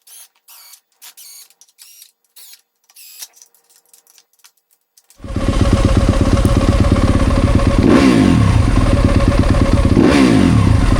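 A 2025 Yamaha YZ250FX dirt bike, fitted with a Rekluse clutch basket, runs in second gear. A few quiet clicks and taps give way halfway through to a loud, steady, close engine drone that rises slightly in pitch twice.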